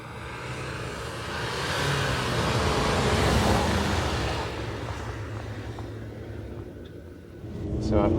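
A VW T6 van lapping a snowy test track, its engine and tyre noise rising to a steady broad roar mid-pass and then fading away.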